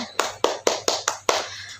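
Children at a Sunday school service clap their hands in six sharp, evenly spaced claps, close and loud, with a faint low hum underneath.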